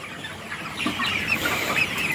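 A large flock of about 1,200 forty-one-day-old Sonali super hybrid chickens on a rooftop farm clucks and murmurs together in a dense, continuous chatter that swells midway, with no one bird standing out.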